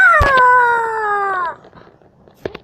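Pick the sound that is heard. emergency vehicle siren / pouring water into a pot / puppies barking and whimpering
puppies barking and whimpering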